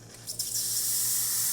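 Hot water hissing and spraying steadily from the wand of a Pasquini Livia 90 espresso machine, a close, continuous rush that surges up after a brief start and holds level.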